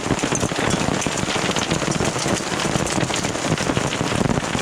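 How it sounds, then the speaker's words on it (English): Dime-size hail falls during a thunderstorm, a dense, constant hiss of hard pellets drumming on surfaces all around, loud and unbroken, with no voices. "That's dime size hail now."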